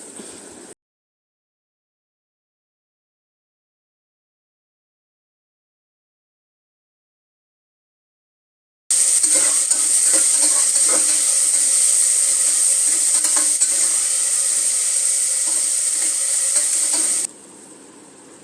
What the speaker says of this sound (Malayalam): ഓയിൽ ചൂടായി വരുമ്പോഴില്ലേ നമ്മൾ കട്ട് ചെയ്ത് വെച്ച ഉള്ളി ഇട്ട് കൊടുക്കുക എന്നിട്ട് നല്ലോണം വഴറ്റുക